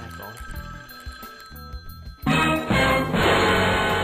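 A phone rings with repeated tonal bursts, then becomes louder and denser partway through, while a person talks over it.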